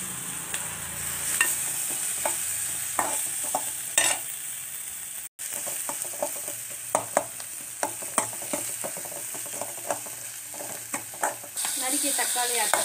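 Curry leaves and tomato are sautéed in a pan while making Vaval (pomfret) barbeque, giving a steady close sizzle with repeated scraping stirs that come in sharp clicks and knocks, and a brief dropout midway.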